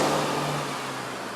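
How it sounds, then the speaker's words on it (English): A car drives past nearby, its steady engine hum and tyre noise fading and dropping in pitch as it moves away. "Like that car that just passed by me."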